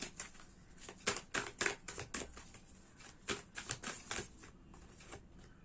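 Playing cards are shuffled and drawn in a quiet, close sequence of crisp riffling flicks and snaps, with no voices over them.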